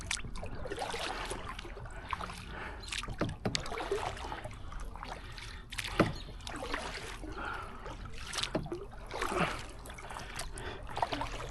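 An Old Town 119 Solo Sportsman kayak is paddled, with repeated splashing paddle strokes and water dripping and trickling close by, set against a steady outdoor background.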